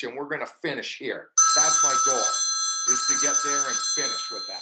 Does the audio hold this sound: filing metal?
no